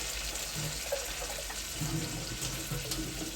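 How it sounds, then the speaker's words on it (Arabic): Water is poured into a pot of duck cooking with blended vegetables, tomatoes, onion and garlic, making a steady, fairly quiet rushing stream that runs throughout. "وهديله كمان شويه ميه"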